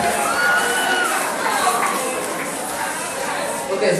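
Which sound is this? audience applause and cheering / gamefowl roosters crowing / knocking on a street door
audience applause and cheering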